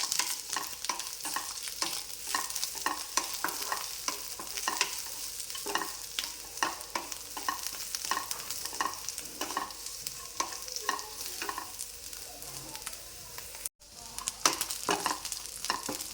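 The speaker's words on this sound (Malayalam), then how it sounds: "2 തണ്ട് കറിവേപ്പിൻ്റെ ഇല ഇട്ട് കൊടുക്കണ്ടേ. പിന്നെ 2-3 ചെറിയ ഉള്ളി നടുകെ പൊളിച്ചതും കൂടി ഇട്ടൊന്ന് വറുത്തെടുക്കാം" Curry leaves and halved shallots frying in a pan, a soft continuous sizzle broken by repeated scraping stirs, close but fairly quiet, with a brief dropout near the end.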